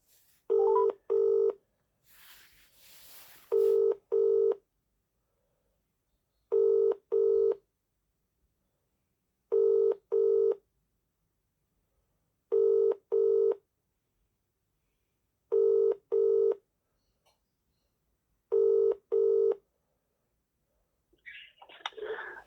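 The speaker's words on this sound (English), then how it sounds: "ringing up Mr. Kenna." A phone line rings with a double-pulse tone, repeated seven times at an even pace over near silence, then a voice begins at the end.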